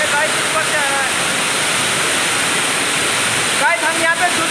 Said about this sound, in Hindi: झरना क्या मस्त है भाई, ये ऊपर से आ रहा है